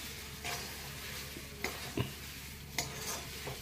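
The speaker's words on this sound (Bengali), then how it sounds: "কড়াই নেড়ে তারপর ওটা ঢেলে দিই" Food being stirred in a kadai while cooking, with a steady sizzle underneath and a few distinct scrapes and clinks of the utensil against the pan.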